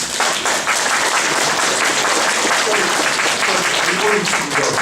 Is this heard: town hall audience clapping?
yes